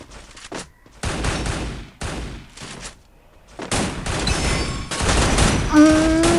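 Bursts of Free Fire video game gunfire, rapid volleys of shots in several clusters with brief gaps, loud and close.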